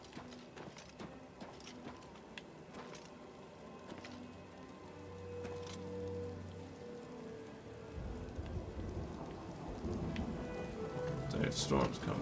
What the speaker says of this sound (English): The storm's coming back in.